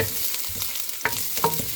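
Onions, ginger and garlic fry in a pan with a steady low sizzle, broken by a couple of brief clinks and stirring scrapes near the end.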